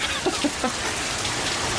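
Steady, dense rain falling outdoors during a long wet spell, a loud continuous hiss with a few scattered drop patters near the start and no speech.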